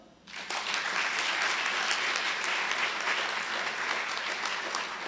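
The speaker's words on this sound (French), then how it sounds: "Nous les applaudissons." Audience applause at a tribute ceremony in the village of Ravine-Sèche, a steady dense clapping that swells in quickly and holds at moderate volume throughout.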